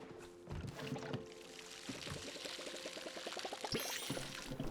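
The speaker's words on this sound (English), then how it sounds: "And then we have to water it." Watering a birch tree in the video game Palia, a quiet game sound of pouring, splashing water with rhythmic tonal plinks over a soft background, close and faint, with no talk.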